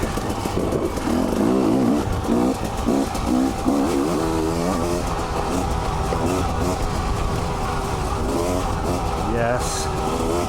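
Husqvarna dirt bike ridden off-road over rocky trail sections, its engine revving and surging continuously throughout, loud and close, with a rider's voice talking over the engine noise.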